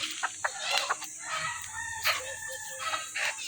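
Chickens cluck nearby while being fed at a farm coop. A rooster-like crow and brief sharp squawks rise over steady hen chatter, fairly loud and close, with no talking.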